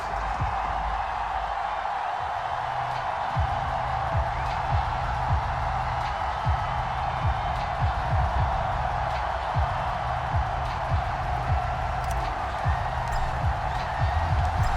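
Baltimore stadium crowd at a Ravens versus Vikings football game, a steady broad roar and murmur filling the background throughout, with scattered claps and thumps and a voice talking over it.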